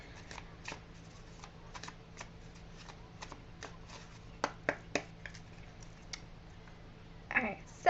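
Tarot cards shuffled by hand, a series of quiet, crisp riffling flicks at a loose irregular rhythm, close and soft, ending with a slightly louder rustle.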